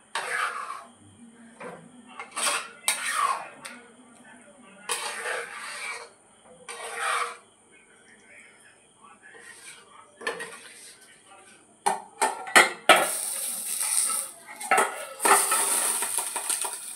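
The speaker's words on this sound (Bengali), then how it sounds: "ছোঁকা মশলাটা খিচুড়ির ওপর ঢেলে দেবো।" Metal utensils clink and scrape against a pot as a sizzling spice tempering is poured over Bengali khichuri, bright clattering in scattered bursts that grows into a hissing sizzle near the end.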